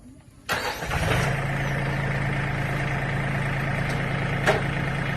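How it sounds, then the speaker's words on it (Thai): A small branch shredder engine starts with a sharp burst, then runs steadily at a constant, droning pitch close by, with a couple of brief clanks. "ทดลองเครื่องสับกิ่งไม้นะคะ"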